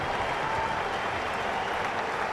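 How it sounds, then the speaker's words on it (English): A cricket crowd at a World Cup match between Australia and Sri Lanka applauds a century innings by Aaron Finch, a steady, distant wash of clapping with no breaks. "Crowd showing their appreciation"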